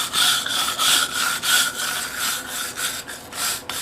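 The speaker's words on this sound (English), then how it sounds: "And I'll wire brush it." A wire brush scrubs back and forth over hand-carved stone in steady, close strokes, each rasping pass rising and falling in a regular rhythm with no voices.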